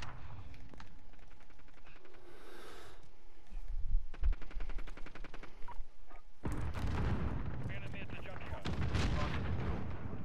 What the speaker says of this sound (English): Dude, these guys use shotguns.